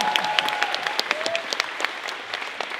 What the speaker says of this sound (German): Ja, nochmal einen kräftigen Applaus für den Abbau.